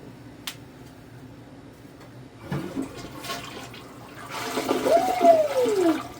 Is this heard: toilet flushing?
yes